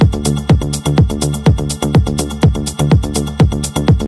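A synth bassline recreated in Serum after a remix, with punchy, plucky bass notes in a steady driving rhythm of about two hits per second, loud and alone.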